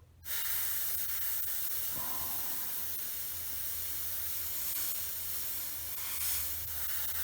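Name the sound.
airbrush spraying paint on Tamiya F4F model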